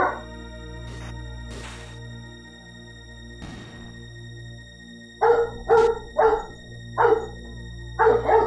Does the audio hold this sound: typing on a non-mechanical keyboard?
no